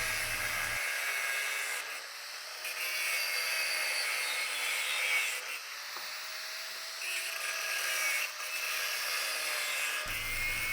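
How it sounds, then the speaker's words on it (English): An abrasive cutting wheel grinds old leg screws off a salvaged metal piece, a steady high-pitched whine and hiss running close and loud for about ten seconds with slight rises and dips in pitch. "It had a bunch of old leg screws that had to be ground off. That cutting wheel makes quick work of that."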